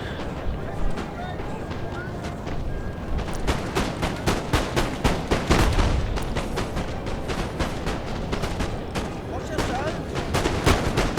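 Massed musket volleys crackle across a Napoleon: Total War battlefield on the Sunken Jungle map. Rapid, uneven bursts of gunfire come in dense waves and rise to a thick fusillade midway, while someone talks over the shooting.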